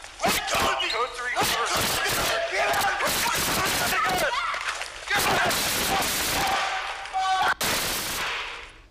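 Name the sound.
gunshots in police body cam video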